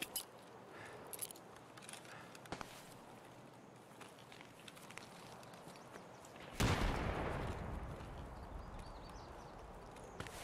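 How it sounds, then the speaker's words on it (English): A grenade launched in the shooter Escape from Tarkov, faint thuds and clatter, then a sudden loud explosion followed by a rumbling, slowly fading roar. "I'm gonna launch my nade up there."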